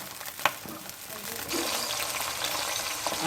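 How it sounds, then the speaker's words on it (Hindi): Green peas, 250 grams, frying in a pan for aloo matar gobi sabzi, giving a steady close sizzle that swells and holds after a brief stir and clink near the start. "इसको फ्राई करना है"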